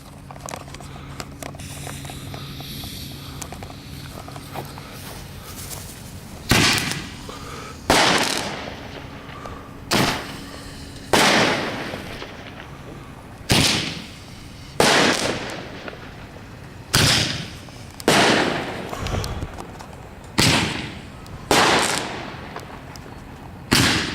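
Fireworks go off in a steady series of about a dozen sharp, loud bangs, each a few seconds apart with a crackling tail, sounding fairly near and outdoors.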